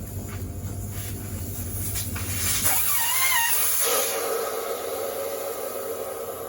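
Air hisses steadily out of the front motorcycle tyre, a Michelin Anakee Wild on a Yamaha Super Ténéré XT1200Z, with its valve core removed. The hiss is close and continuous and swells briefly partway through.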